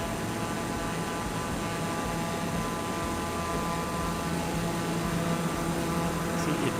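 A helicopter in Microsoft Flight Simulator 2024 passes by with a continuous, broad rotor-and-engine roar that holds fairly steady at moderate loudness from start to finish, with no talking.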